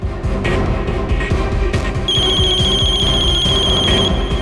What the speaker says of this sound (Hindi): Pick up the phone.